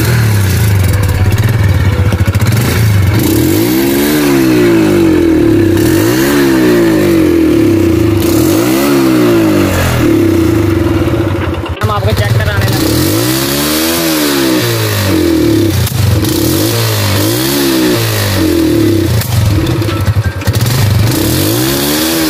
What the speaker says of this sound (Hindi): ये फुल आगे करूंगा तो बैक फायर निकलेगा।